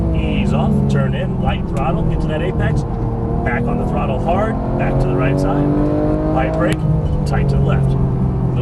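A Porsche GT3 race car on a Las Vegas track brakes and accelerates, its engine note sweeping up and down through the gears, loud and close, with an instructor talking over it throughout.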